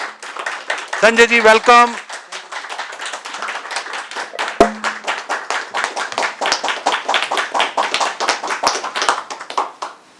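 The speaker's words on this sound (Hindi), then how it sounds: "खड़े होकर जोरदार तालियों से संजय जी को बुलाएंगे।" A seminar audience rises and gives a speaker a long, loud round of rhythmic clapping lasting around ten seconds, with a short spoken greeting and a brief musical flourish early on.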